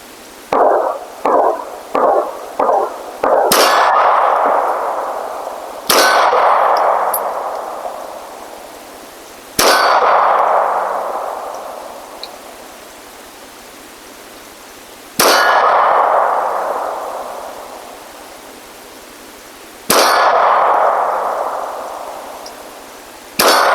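A Glock 42 firing .380 ACP rounds at a steel target from about 15 yards, sharp shots each answered by a loud ringing clang that slowly fades, six hits spaced apart with no talking.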